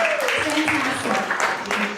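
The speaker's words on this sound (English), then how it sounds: "Let's have a clap for that." Audience applause breaks out at a kick-off meeting, a dense continuous wash of many hands clapping throughout, heard beneath a speaker's voice.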